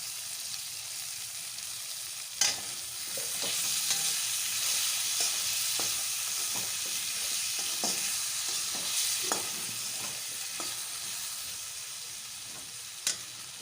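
Spice masala of chilli powder, coriander powder and cumin paste frying in a pan for cabbage curry, a steady bright sizzle broken by repeated scraping strokes and an occasional sharp tap of the spoon.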